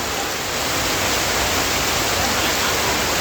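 Heavy rain falls in Singapore as a steady, loud, dense hiss that holds unbroken from start to finish, with no voices.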